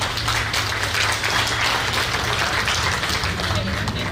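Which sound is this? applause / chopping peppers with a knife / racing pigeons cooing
applause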